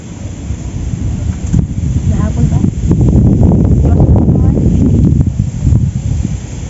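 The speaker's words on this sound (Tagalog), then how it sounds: "Malakas na yung hangin." Strong wind blows across a lake during a fishing outing, a loud, continuous roar buffeting the microphone that swells louder midway.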